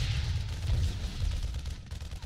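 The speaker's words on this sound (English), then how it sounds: "He didn't get quite enough cannon fires off on my Marine." Photon cannons firing on Marines in a StarCraft Terran versus Protoss cannon rush, heavy low booming blasts and rumbling weapon fire layered continuously through the moment.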